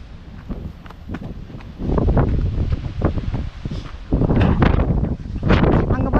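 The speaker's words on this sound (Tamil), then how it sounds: "நம்ம நிமிர்ந்து போனோம்னா திடீர்னு காற்றடிக்குது." Strong wind gusting across an exposed hilltop, loud buffeting rumble battering the microphone in surges that swell and build toward the end, with faint rustling and no clear talk.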